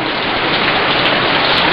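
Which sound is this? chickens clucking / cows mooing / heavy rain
heavy rain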